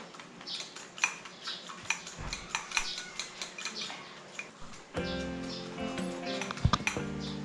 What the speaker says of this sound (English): I think I've been whisking this for ages.